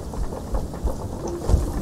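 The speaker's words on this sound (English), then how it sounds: "We had a lightning strike up on the crow's nest." Lightning strikes a ship's crow's nest during a storm at sea in Sea of Thieves, a dense rumbling crackle of thunder over steady rain, loud and close, with a couple of heavier low booms.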